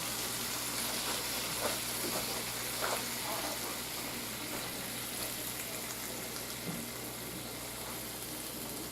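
Food simmers and sizzles in a hot pan over a gas flame, a steady broadband hiss running the whole time with a few faint stirring clicks and scrapes near the start.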